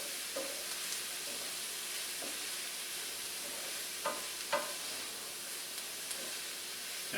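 Paella ingredients are stirred in a pan, with a soft continuous sizzle and hiss under a few scattered scraping and clinking sounds from the utensil.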